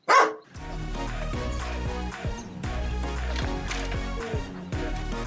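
A dog on a cycling trip around Ko Kret island gives a single sharp bark up close, followed by a steady broadband wash of sound.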